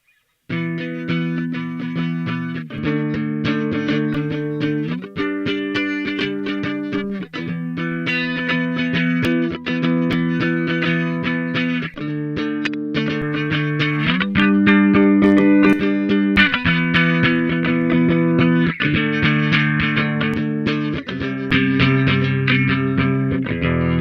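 A distorted electric guitar playing a sustained chord progression through a mono rotary effects pedal built on Faust and Teensy 4.0, set fully dry with no reverb, upfront, each chord held for a couple of seconds.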